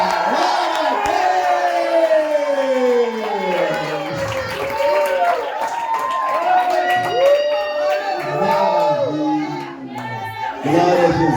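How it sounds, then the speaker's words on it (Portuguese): A church congregation at a Mother's Day service claps, cheers and whoops loudly, with voices shouting over sustained crowd noise. "Aplauda esse povo pela vida deles."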